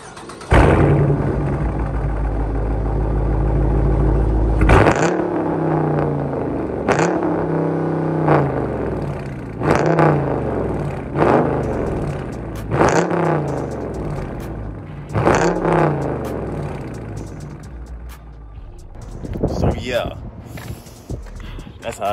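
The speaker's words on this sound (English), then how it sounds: "I did a mid muffler delete on this car, on the Dodge Charger RT. So I gotta show y'all how it sound like." A 2019 Dodge Charger RT with its mid muffler deleted revs repeatedly, each sharp throttle blip rising into a deep raspy roar before dropping back to a rumbling idle, loud and close with talking between some revs.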